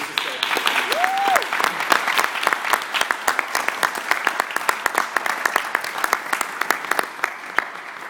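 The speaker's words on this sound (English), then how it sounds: "I want y'all to give Parrish another round of applause, please" Dense, steady audience applause fills a year-end ceremony hall, with a brief whoop rising early on and sharp individual claps standing out throughout the sustained ovation.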